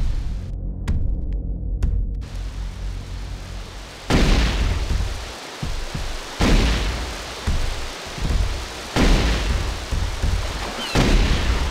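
Plasma rifle firing in a competitive video game, with repeated heavy booming bursts at intervals, each a broad crackling blast that decays into a low rumble, loud and close.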